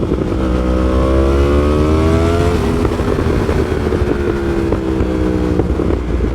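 Riding a Yamaha R1M sport motorcycle on light throttle, the engine rises gently then eases off and settles, steady and close with wind rush behind it and no voices.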